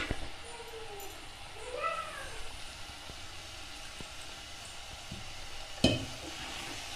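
Prawn gravy being stirred in a pan, a soft, steady sizzle with faint scraping and one sharp clink of the utensil against the pan near the end, with no talking.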